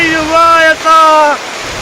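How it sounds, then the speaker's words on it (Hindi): Steady, loud rushing floodwater noise from heavy rain fills the whole clip, with a voice talking over it for most of the time. "पानी की ये जोरदार आवाज डराने वाली है।"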